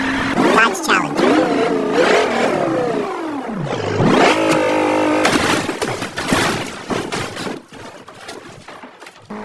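Dodge Challenger car engine revving and accelerating hard, loud and close, with rising and falling engine pitch, sharp bursts and clatter, fading slightly toward the end.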